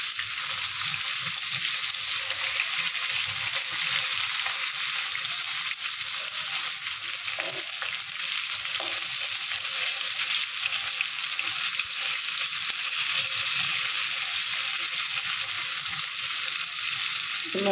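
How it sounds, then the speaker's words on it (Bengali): Fish frying in a pan before going into a curry with radish, eggplant and potato, a steady loud sizzle and spatter continuing without break throughout, no talk. "এই যে মাছ ভাজা বসাই দিচ্ছি তরকারি রান্নার জন্য"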